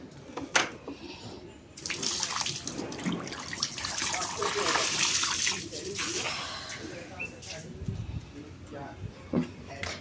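Water poured out in a home kitchen area: a steady rushing splash that starts about two seconds in and runs on, with voices talking over it.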